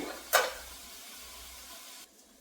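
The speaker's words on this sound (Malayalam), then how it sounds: "കടുകൊക്കെ വറുക്കട്ടെ" Mustard seeds hit hot oil with a sudden loud crackling burst, then settle into a steady close sizzle that cuts off abruptly near the end.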